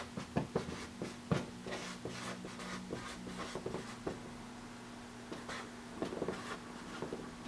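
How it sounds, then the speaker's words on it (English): Pen scratches and scribbles across paper in short, quiet bursts, with irregular strokes and pauses, close and alone against a faint steady hum. "I'm going to write that down"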